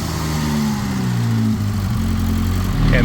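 Ford Ranger engine, running on four cylinders, idling steadily just after firing up, with a loud continuous low rumble throughout and no speech.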